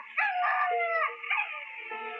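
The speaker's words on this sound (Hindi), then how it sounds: "बच्ची के मुंह से कपड़ा हटाते ही कुत्तों ने रोना शुरू कर दिया और वहां से भाग गए।" Several dogs howl together in a sustained, wavering chorus of overlapping mournful tones, fairly close and loud, with no talking.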